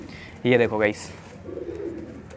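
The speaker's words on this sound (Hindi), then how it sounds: "ये कबूतर कलसरा है" A Kalsara pigeon gives a short cooing call up close, a brief burst followed by softer murmuring, while someone speaks nearby.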